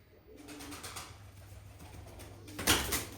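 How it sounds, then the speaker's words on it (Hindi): A young wild pigeon, caught and trapped, gives soft cooing calls, faint and fairly close. Light rustling and one louder bump sit under the calls. "जंगली कबूतर का बच्चा है, बट छोटा है"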